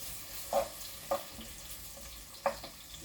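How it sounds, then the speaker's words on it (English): Soft, steady sizzling of onions frying in a pan for githeri, broken by three sharp clinks of a utensil against the pan. "Right now I'm frying onion."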